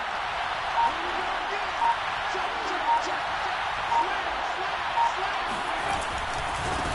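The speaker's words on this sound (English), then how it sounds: "The crowd here in the Dome making things difficult." A packed crowd inside a domed football stadium roars as a steady, echoing wash of noise while a commentator talks over it.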